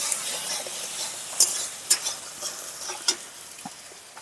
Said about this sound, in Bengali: এবার আমি সব কিছু একসাথে খুব ভালো করে কষিয়ে নেব